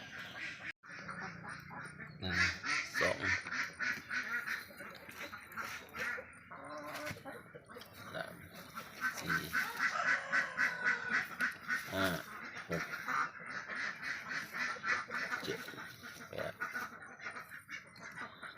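Ducks quack close by in a loud, busy chorus, calls overlapping and repeating with barely a pause.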